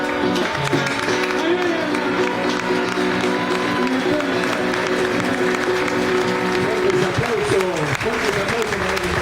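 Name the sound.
crowd applause for the singer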